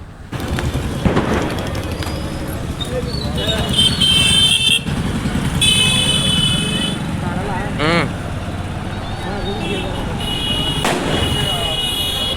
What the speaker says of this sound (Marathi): आपल्या ह्या गाडीवर आपण मंदिरला जाणार आहे